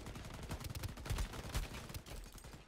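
Gunfire in the Shatterline video game crackles faintly and continuously, with dense overlapping shots and thumps that sound like a distant firefight rather than a single weapon.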